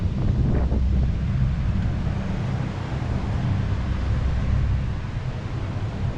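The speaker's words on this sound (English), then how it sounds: "The wind is stronger." Strong gusting wind before a typhoon on a street in Taipa, Macau, roars and buffets the microphone continuously as a dense low rumble, steady throughout with no voices.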